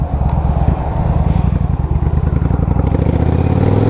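A 2005 Yamaha V Star 1100 cruiser rumbles close by with a deep, pulsing V-twin beat at steady cruising throttle, the low exhaust thump continuous throughout.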